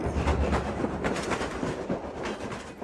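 A cartoon train sound effect gives a continuous rhythmic clatter of wheels on rails, close and loud throughout, with no voices.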